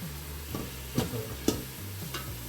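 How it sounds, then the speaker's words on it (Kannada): Chicken biryani masala with mint frying in a pan, a quiet steady sizzle with a few sharp spoon clicks and scrapes from stirring, heard up close. "ಹೀಗೆ ಮೂರರಿಂದ ನಾಲ್ಕು ನಿಮಿಷ ಫ್ರೈ ಮಾಡ್ಕೊಳ್ಳಿ ನೋಡಿ ಚೆನ್ನಾಗಿ ಫ್ರೈ ಆಗ್ತಿದೆ"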